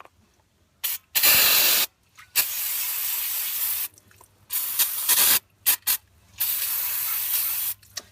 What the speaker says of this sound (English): Take a little bit more of a brake clean and clean this hole.